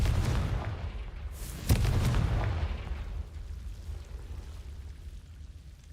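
The Confringo spell goes off in Hogwarts Legacy as a single loud blast at close range, with a sharp crack and then a deep rumbling tail that fades over several seconds.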